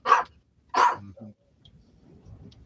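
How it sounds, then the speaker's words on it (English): A dog barks twice in close succession, sharp and near, followed by a softer low grumble and faint background noise. "And then went back to barking at you."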